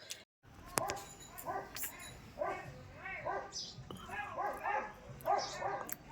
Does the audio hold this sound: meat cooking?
no